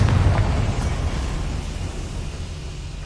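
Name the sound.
Confringo fire blast spell explosion in Hogwarts Legacy video game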